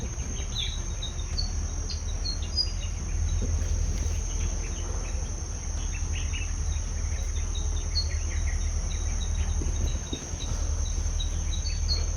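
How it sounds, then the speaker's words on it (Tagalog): Dense chirping fills the air, with many small calls overlapping continuously against a steady insect-like buzz and low background rumble. "Sobrang ingay ng mga ibon."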